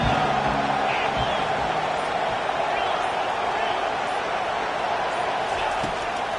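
A stadium crowd at a football game makes a steady, washing roar of cheering and noise through the whole stretch, with a voice talking over it.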